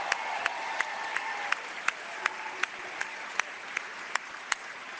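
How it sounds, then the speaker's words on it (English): Applause from the crowd at a Liberal caucus holiday party, a steady wash of clapping for the whole clip, with sharper individual claps standing out at a regular pace. "so let's give all of them a round of applause."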